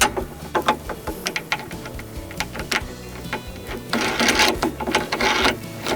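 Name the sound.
bolt being tightened into position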